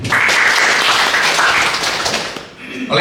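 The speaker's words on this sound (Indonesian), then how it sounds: "Tepuk tangan buat Bapak Ibu." An audience at a school guidance-counselling teachers' event applauds loudly and steadily, a dense wash of clapping that thins out near the end before a brief final burst.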